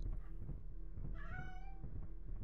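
A cat meows once in a video game, a clear drawn-out mew rising over steady low background rumble and game noise, with no talk.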